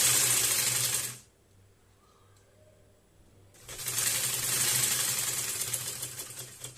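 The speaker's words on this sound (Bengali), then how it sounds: "এই যে সুন্দর করে পাইপিংগুলো লাগিয়ে উপর দিয়ে একটি চাপ সেলাই দিয়ে দিচ্ছি।" A sewing machine topstitches piping onto a dress sleeve, running in a fast, loud, steady whir that cuts out for a couple of seconds of near-quiet and then starts again.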